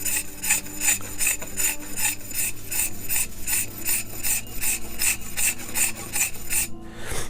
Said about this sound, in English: just going to use the scraper, get rid of that orange